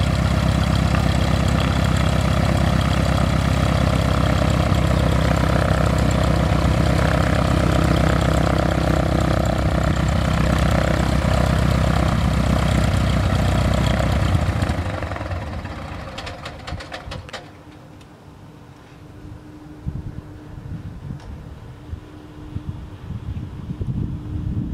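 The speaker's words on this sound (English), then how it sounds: "There's our airplane way up there, doing a flyover." Propeller airplane making a flyover at Sky Acres Airport, a small airfield in Lagrangeville, NY, heard as a steady, fairly loud engine drone with wind noise that cuts off sharply partway through, leaving quieter rumbling gusts.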